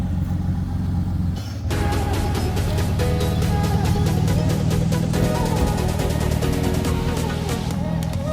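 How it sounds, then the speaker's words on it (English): A Ford Ranger engine idles with an exhaust leak, giving a steady rumbling drone with a rapid ticking pulse throughout, after a brief dip early on, close and loud with no talking. "And an exhaust leak."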